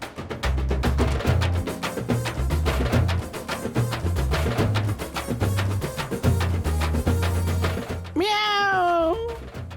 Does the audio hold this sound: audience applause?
no